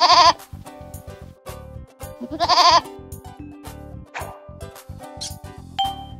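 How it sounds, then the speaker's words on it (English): A goat bleats twice in loud, wavering cries, set among plinking cartoon-style musical notes and a bouncy backing tune. "A goat."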